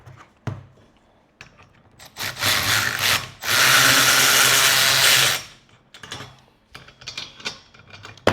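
A power drill whirs in two bursts, one short and one longer and louder, while backing out and reversing bolts on a go kart being built, with quieter clicks and clatter of handling before and after.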